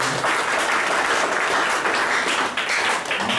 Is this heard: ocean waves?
no